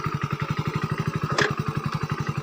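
A parked motorcycle's engine idles steadily close by, its even, rapid exhaust pulses repeating throughout, with a brief clatter partway through.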